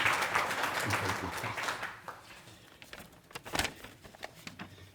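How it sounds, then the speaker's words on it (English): Applause in a lecture hall at a dedication ceremony, a round of clapping that fades after about two seconds into scattered claps, with faint voices underneath. "Can we please give him applause as he comes forward?"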